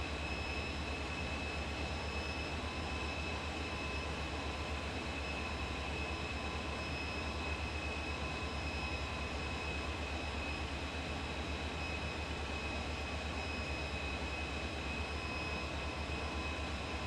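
A DC Designs F-14 jet in Flight Simulator 2020 drones steadily through cruise flight, a constant broadband engine roar with faint high whining tones that holds without change from start to finish.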